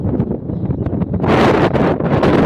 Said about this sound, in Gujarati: અત્યારે આમાં બહુ પવન લાગે